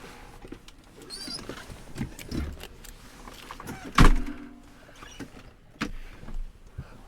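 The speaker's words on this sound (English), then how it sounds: "we close the door" A King Air C90 airplane cabin door is pulled shut, giving one sharp close thud amid soft shuffling and small mechanical sounds nearby.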